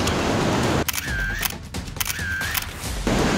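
Camera shutter firing twice while photographing a freshly caught bronze bream on the rocks at Umtentweni, two crisp close clicks about a second apart over steady surf and wind.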